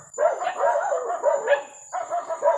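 A dog barking and yipping in a quick run of close, loud, high-pitched barks, followed by a short pause and then a second burst of barks.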